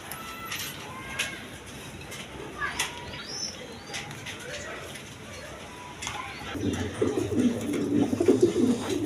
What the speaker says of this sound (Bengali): এক পেয়ার লাহরি কবুতর আছে